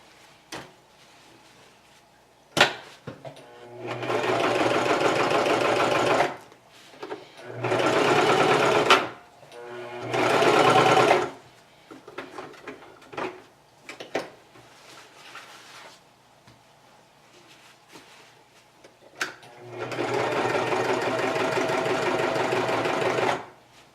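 Sewing machine stitching a cover for ice hockey skate boots, running in four loud sustained bursts as it sews backwards and forwards, with short pauses, clicks and brief speech between runs.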